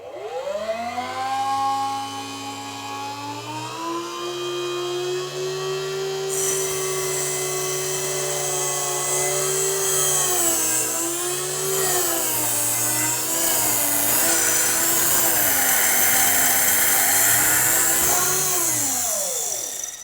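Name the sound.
Jump Ring Maker 2 motor cutting through wire coil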